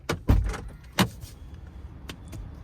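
Lexus RX300 door locks releasing and the driver door opening: a few sharp mechanical clunks near the start, another clack at one second, then softer clicks later against a quiet background.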